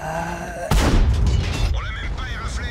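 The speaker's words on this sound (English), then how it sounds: "The fucking Jagdpanzer shot HE at me." A heavy boom in a tank video game as a Jagdpanzer fires a high-explosive shell, a sudden loud blast followed by rumbling debris and crackle, with voices talking over the action.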